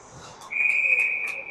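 A referee's whistle at a U16AA youth ice hockey game gives one sustained, shrill blast of over a second, loud and close, rising out of quieter rink ambience.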